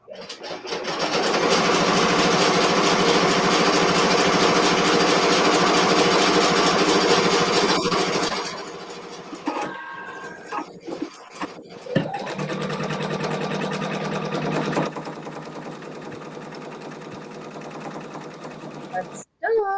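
A Ricoma EM-1010 embroidery machine stitches an in-the-hoop candy bag pouch with a loud, rapid, steady mechanical drone. It halts, gives a few clicks and knocks, then resumes a quieter stitching run before stopping.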